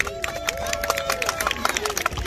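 Elementary school classmates in an audience cheer and clap at a school New Year event, with excited shrill voices and scattered claps bursting out over lively crowd noise.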